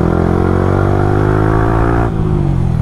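A Yamaha R15 v3 single-cylinder motorcycle with an aftermarket exhaust revs hard and holds near the limiter, a loud, steady, close-up engine roar with rising harmonics that drops off sharply near the end.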